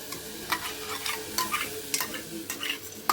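Mango pulp stirred continuously in a pan on a gas stove, with repeated scraping and clinking spoon strokes against the pan over a soft sizzle.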